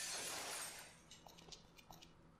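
Glass breaks in the video game Dead Synchronicity, muffled by a seat cover: a broad, hissy crash fades into scattered small tinkling shards over a low background hum, with no voices.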